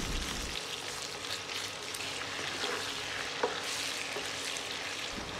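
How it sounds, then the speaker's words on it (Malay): Pieces of chicken sizzle and crackle steadily in hot oil, a dense, continuous frying hiss with a few sharper pops, close by. "Dan kita akan start goreng"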